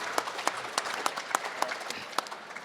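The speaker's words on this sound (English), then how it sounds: "they do deserve a huge round of applause for that" Audience applause at a boxing press conference on the Gold Coast: a short burst of steady clapping from a crowd in a hall, with sharper individual claps standing out.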